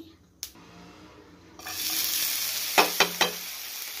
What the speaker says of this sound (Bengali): এখন রসুনটা দিয়ে দিলাম, আর একটু রসুনটা কম তেলে ভেজে নেব।